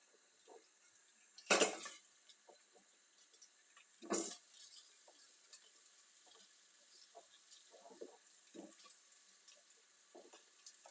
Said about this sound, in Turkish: Şimdi hemen havuç ve patateslerimizi yağ ilave ediyoruz.